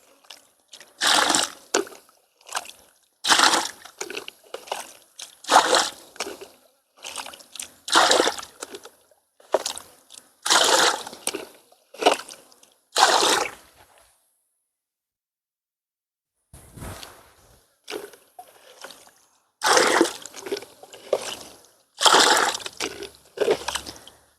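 Water splashes onto potted plants in repeated rhythmic pours, each a loud watery burst, with a brief quiet gap midway before the pouring resumes.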